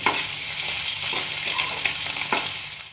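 Potatoes sizzle in hot oil in a pan with salt, a dense close-up crackle punctuated by a few sharp spatula scrapes and taps as they are stirred.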